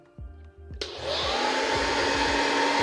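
A hot-air popcorn machine roasting chickpeas switches on after a few soft thumps, then blows a loud, steady whooshing hiss that continues without a break.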